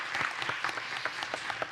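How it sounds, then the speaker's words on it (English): Audience at a school board meeting claps steadily, a moderate close round of applause from a modest crowd with even, rapid hand claps and no talking. "If we can give them another round of applause,"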